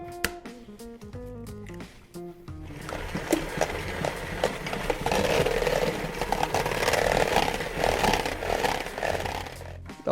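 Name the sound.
stand mixer running on slow speed mixing eggs into dough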